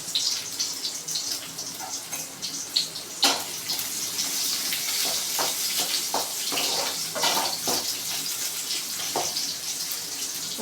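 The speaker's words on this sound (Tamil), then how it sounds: "வெங்காயத்தை நல்லா வதக்கிக்கோங்க" Small onions sizzling in hot oil in a pan, a steady bright hiss with scattered crackles and stirring clinks, close and continuous.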